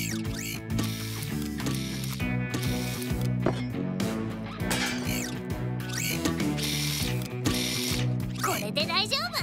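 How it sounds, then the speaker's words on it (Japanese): A cartoon wrench ratchets away as a new pipe is fitted, with busy, repeated clicking and mechanical whirring heard over background music and brief character voices. "アームレンチセット。 ここに新しいパイプを入れよう。"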